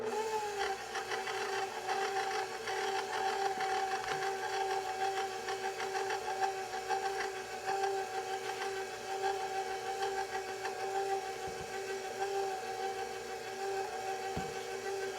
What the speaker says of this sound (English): And now I'm going to add a little at a time, blending as I go along.